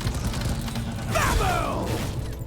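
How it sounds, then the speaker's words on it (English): A drop pod is called in within Deep Rock Galactic on a solo Elite Deep Dive, producing a mechanical whirring and creaking descent with a rising sweep midway, fairly loud over a steady low rumble. "We're sending in the drop pod."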